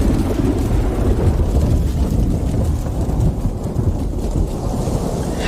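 Thunder rumbles over a steady roar of torrential rain in a thunderstorm, dense and loud throughout with no voices.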